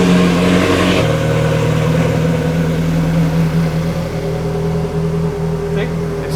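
A Ferrari 458 idles right after an intake manifold install, a loud steady engine hum with a small rise in revs near the start, while people talk over it.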